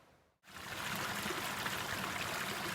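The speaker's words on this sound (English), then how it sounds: "I love these snowmelt streams." A snowmelt mountain stream flows steadily on a Longs Peak lakes trail, a continuous close rushing and trickling of water that starts abruptly after a brief near-silent moment.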